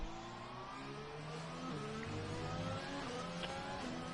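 Race car engine in a racing video game, cornering into a hairpin: a steady high whine with shifting pitch bands that drop under braking, holding at moderate loudness throughout with no talk over it.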